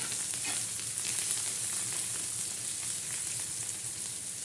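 Egg chutney with thecha and reddish-roasted onion and vegetables fries steadily in a pan, giving a continuous fine crackling sizzle at moderate level with no speech.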